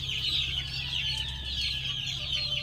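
Young chicks inside an improvised tent brooder cheep constantly in a dense, high-pitched chorus, close and steady throughout with a low hum underneath.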